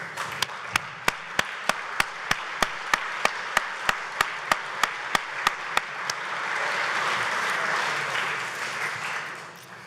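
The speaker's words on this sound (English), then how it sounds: "I'd like to ask you actually to give her a standing ovation." An audience at a wild salmon conference keynote claps in a steady, evenly spaced rhythm of sharp single claps for about six seconds, then the sound swells into a dense, continuous ovation of applause.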